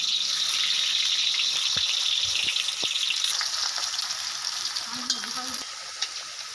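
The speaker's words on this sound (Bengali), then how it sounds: "প্রথমে ভাজা হচ্ছে আলু।" Potato pieces fry in hot oil in a wok, a bright, continuous sizzle close up with occasional stirring knocks and scrapes that fades slightly toward the end.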